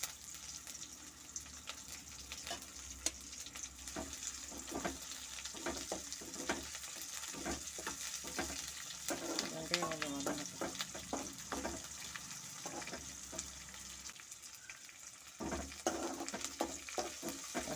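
Shallots and curry leaves fry in hot oil with a continuous crackling sizzle. Frequent sharp spatters and stirring scrapes run through it, and a faint bird calls in the background.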